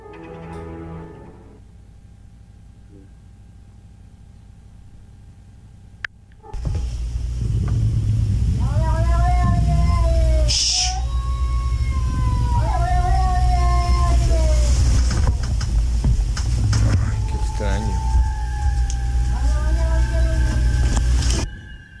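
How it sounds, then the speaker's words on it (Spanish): A recorded cat's meows play loudly over a steady low rumble, several drawn-out wavering cries in sequence after a quieter opening stretch. "se escucha que dice hay algo, veo algo con el maullido del gato"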